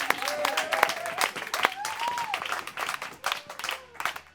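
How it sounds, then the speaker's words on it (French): Audience applause at a startup demo day, with scattered sharp claps mixed with cheering and raised voices, uneven and lively, swelling and dipping over several seconds. "On peut vous applaudir."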